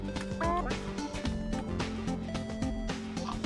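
A chicken in the zombie road-trip game Death Road to Canada gives repeated squawking clucks, bright and close, over game music with a few brief clatters.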